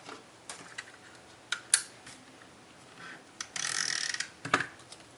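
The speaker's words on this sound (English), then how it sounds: "this one I'm gonna put on with my tape runner" A tape runner rolls adhesive onto paper while making a stamped handmade card, heard as a faint ratcheting, scraping burst lasting under a second amid scattered light clicks and paper handling, with no talking.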